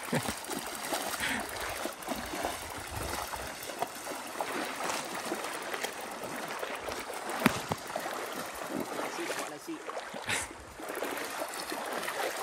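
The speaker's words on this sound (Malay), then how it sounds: "Nyebrang sungai kedua ni" Mountain bikers on a cross-country ride in Aceh cross a river stream, with continuous rushing and splashing water and scattered knocks and splashes throughout.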